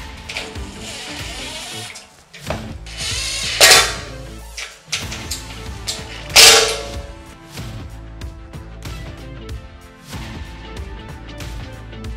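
Self-threading screws driven into the sills of a RAM ProMaster van, with a few loud metallic clanks and the whir of a driver over a continuous mechanical hum, without talking.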